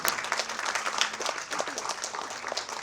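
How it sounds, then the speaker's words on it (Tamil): An audience at a Tamil film audio launch for Kuttram Thavir breaks into sustained applause, a dense, even wash of many hands clapping that holds steady throughout. "இதனால் பலத்த கரகோஷம் கொடுங்க அவருக்கு."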